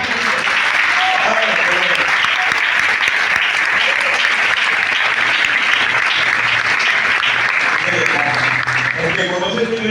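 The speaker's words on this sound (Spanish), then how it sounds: "¿Cuánto le damos aplausos a Dios por los jóvenes?" Steady, dense applause from a church congregation fills the room for the full stretch, broad and sustained, with voices murmuring underneath.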